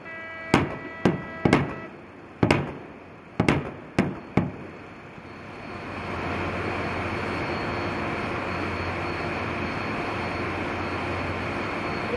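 A Yoon Youngha-class missile fast attack craft fires during a naval drill: seven sharp, loud gun reports in an uneven sequence, then a steady broad roar of engine and wind sets in and holds.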